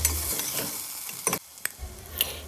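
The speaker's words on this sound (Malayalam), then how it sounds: "നെയ്യിൽ വഴറ്റാനിട്ട സവോളയും ഇഞ്ചിയും എല്ലാം ഏകദേശം ആയി വരുന്നുണ്ട്." Sliced onion and ginger sauté in ghee for a spicy mutton curry, crackling and sizzling with a few sharp stirring clinks against the pan, close and brief.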